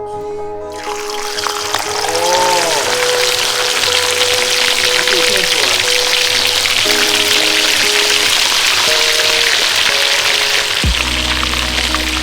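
Salted kole reef fish frying in salted oil, a steady loud crackle and sizzle that fills the whole stretch, with some tonal background sound and a low thump near the end.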